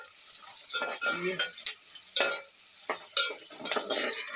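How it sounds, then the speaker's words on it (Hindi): Green chillies lightly fry in a pan, giving a close sizzle broken by stirring scrapes and clinks, while a voice briefly speaks. "बस हल्का हल्का फ्राई करना है, ज़्यादा फ्राई नहीं करना"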